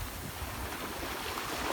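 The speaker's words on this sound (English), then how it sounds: "listen to the sound of the waves" Ocean waves wash onto a beach in a soft, steady hiss of surf, faint and continuous with no distinct breaks, and no voices.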